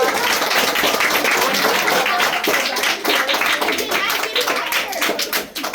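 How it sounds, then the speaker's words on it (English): Elementary schoolchildren at a career day give a guest doctor a round of applause, loud, dense clapping from a roomful of kids filling the whole stretch. "So give Dr. Elijah a hand of applause."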